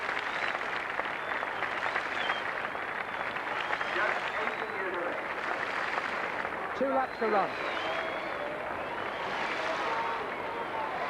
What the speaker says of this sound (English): And the crowd really rising to her